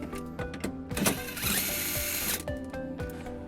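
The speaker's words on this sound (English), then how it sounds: "It's held in by one bolt that we'll remove using a 10mm socket" A power tool whirs in short bursts with a longer sustained run, up close, while a 10mm socket removes the single bolt holding a cargo hook in a 2015 Honda CR-V.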